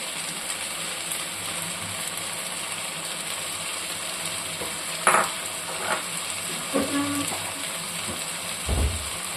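Chicken curry sizzles and fries in a pan as chilli powder is sprinkled in and stirred, giving a steady close crackle with a few scraping stirs and clinks near the end, and no talking.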